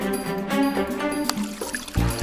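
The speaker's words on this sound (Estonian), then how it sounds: "Allikad on siin, me saame vett võtta, aga kindlasti hästi puhas ja hea vesi." Clean spring water scooped up and poured out in a Lahemaa forest, a steady splashing trickle with a few sharper spills, close and fairly loud.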